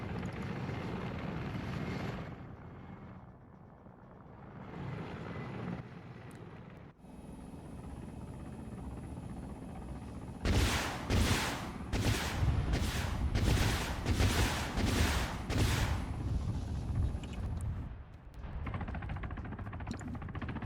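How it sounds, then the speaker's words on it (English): An airstrike in the military game Arma 3 brings a steady aircraft engine drone with a run of rapid, heavy blasts in the middle, fairly faint overall and with no talk. "Big airstrike right there."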